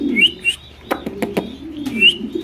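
Pigeons at a pigeon sale give low cooing calls, with a few sharp clicks and chirps in between, close and fairly clear over a quiet background.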